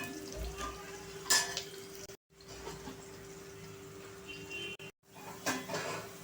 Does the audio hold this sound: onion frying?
yes